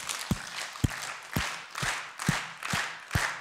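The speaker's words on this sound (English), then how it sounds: "So everybody would clap with him." A theatre symposium audience claps in a handful of sharp, loosely timed bursts, fairly close and with no talk over them.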